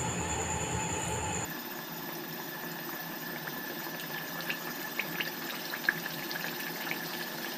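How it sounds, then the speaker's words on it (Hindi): Moong dal kachori frying in mildly hot oil, a steady low sizzle and bubbling that starts abruptly after a quieter moment, with faint scattered pops and crackles throughout. "ये कचौड़ियाँ हमने बना ली हैं, अब इसको फ्राई कर लेते हैं।"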